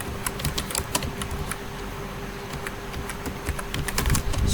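Rapid typing of C++ code on a computer keyboard, a steady stream of close key clicks over a low constant hum, with no voices.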